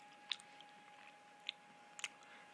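Someone chewing crunchy fried chicken, close and quiet, with a few sharp crisp crunches and bites spaced irregularly over a steady background hiss, no talking.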